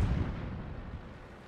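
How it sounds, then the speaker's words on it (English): An artillery shell bursts nearby in World of Tanks, a low rumbling boom at the start that decays into a fading roll of debris and echo. "Good shooting artillery, but you missed."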